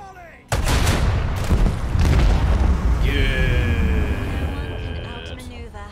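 A macro cannon volley in Warhammer 40K Rogue Trader, a sudden heavy boom followed by rolling blasts and a long rumbling tail under a sustained high whine, loud and close.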